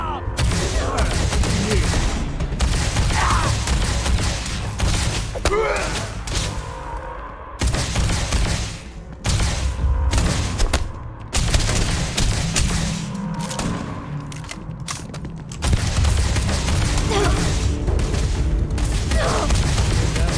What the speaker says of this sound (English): So apparently we need to shoot these guys with the EM rifles